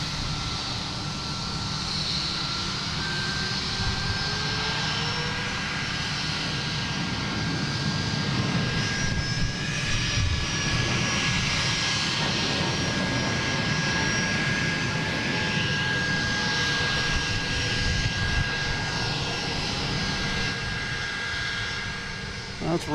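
An Embraer E-175 jet, flight 5735, roars steadily and loudly at Boston Logan, a broad sustained engine rush with a high whine running throughout, while a voice talks over it.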